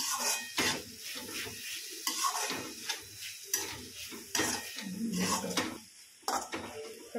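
Dodi flower vegetables being stirred in a cooking pot, a spoon scraping and clinking against the metal in repeated strokes over a soft sizzle, close and fairly loud, no voices.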